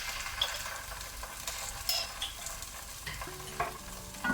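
Ginger garlic paste frying in a pan with golden brown onions, with a soft continuous sizzle, stirring scrapes and light clinks close by, moderately quiet.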